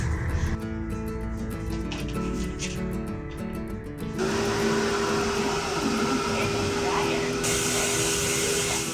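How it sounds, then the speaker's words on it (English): A blow dryer runs steadily on a Husky dog being groomed, a continuous loud whooshing drone that gets brighter and stronger midway, with some talk faintly underneath. "How he'll react to the scary blow dryer."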